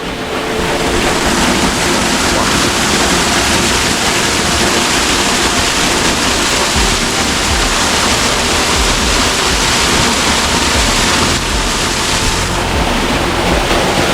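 The Chorreras de Balastar waterfall in Faraján roars loudly and steadily from close range, a dense continuous rush of falling water with no voices.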